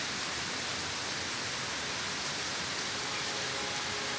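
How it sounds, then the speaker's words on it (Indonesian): Light drizzle falling steadily, a soft continuous hiss of fine rain spread evenly across the whole stretch with no breaks, fairly quiet and diffuse, without any voices. "Gerimis belum berhenti lagi."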